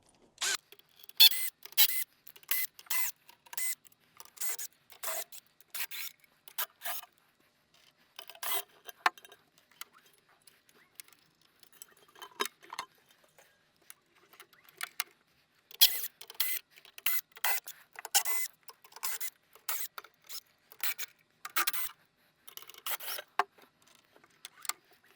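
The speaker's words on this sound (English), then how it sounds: "we're going to remove these 10 3mm screws on both sides" Quiet bursts of small clicks and ticks while 3mm screws are removed from the covers of a Proteus Maximus light fixture, repeated at irregular intervals with short pauses and no talk.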